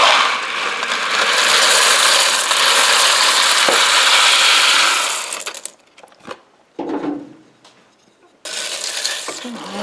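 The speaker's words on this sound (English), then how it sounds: "I'm going to be adding 2 pounds of, 1 pound of elbow macaroni" Dry elbow macaroni, one pound, pouring loudly and continuously into a pot for several seconds, then stopping, followed by a few scattered rattles and one more short rush of pasta at the end.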